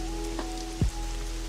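Rain falling in the game Pokemon Pokopia, a steady hiss of fine drops under faint tonal hums, with a short low thump near the middle and no talk.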